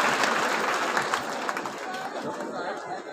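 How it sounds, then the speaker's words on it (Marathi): An audience claps together at the close of a sannyas diksha initiation ceremony, a dense burst of applause mixed with crowd chatter that gradually thins out. "आपण सर्वांनी टाळ्या वाजवून त्या गोष्टीचा आनंद व्यक्त करूया"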